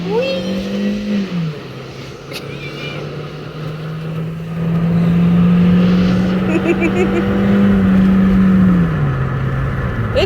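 An old VW Beetle, freshly repaired, drives along with its engine revving and accelerating, the drone rising and holding steady, while people in the car talk over it.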